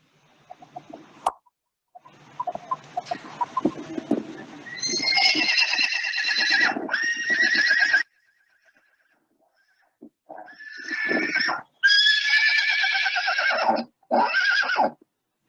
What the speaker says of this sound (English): The sound of a horse is called neigh.